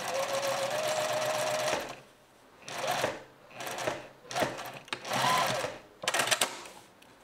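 A domestic sewing machine stitches fabric in several runs of fast, rattling needle strokes. A long first run is followed by shorter bursts separated by brief pauses, all heard up close.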